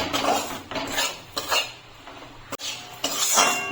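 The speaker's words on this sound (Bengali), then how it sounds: "ময়দাটা ঘিয়ে দিয়ে দিচ্ছি ঘি দিয়ে বেঁধে নেব গ্যাসের ফ্লেমটা লোতে করে ভাজতে হবে" Flour being fried in ghee on a low flame for homemade soan papdi, with a utensil scraping and clinking against the pan in repeated bursts and a faint sizzle beneath, close and fairly loud.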